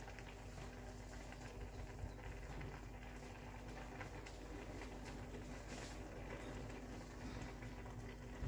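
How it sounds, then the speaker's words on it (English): Faint, continuous bubbling and rumbling of water at a boil in a pot, a steady low churn with no talking. "You can see it is boiling."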